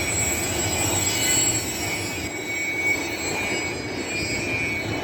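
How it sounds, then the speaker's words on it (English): A long FEC freight train rolls past a railroad crossing with a steady, close rumble of wagons, faint squealing wheels and a continuous metallic hiss. "It's a pretty long train"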